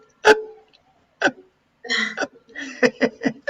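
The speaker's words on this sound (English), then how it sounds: "I have the hiccups." A person hiccups several times, the sharp catches spaced out at first and then coming quicker in a short cluster, close and clear with some breathy vocal sound between them.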